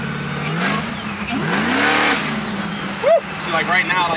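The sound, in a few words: Whipple supercharged 376 LSX Monte Carlo SS engine revving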